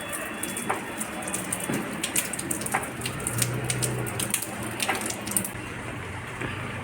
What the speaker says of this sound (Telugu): వర్షం పడుతుంది గట్టిగా రావట్లేదు వర్షం